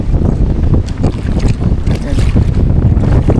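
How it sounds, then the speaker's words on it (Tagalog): Loud, steady wind roars and buffets the microphone while fishing, a heavy rumbling blast that never lets up, with water sloshing faintly underneath. "sobrang lakas po ng hangin"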